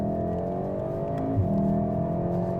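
A VW Golf R engine in race mode holds a steady, fairly quiet drone with a brief surge midway, heard from inside the car with no talking.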